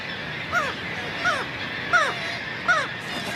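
Gulls call from a building ledge, four short, clear cries repeating at an even pace about every 0.7 seconds over a steady outdoor background.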